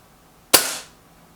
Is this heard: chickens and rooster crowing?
no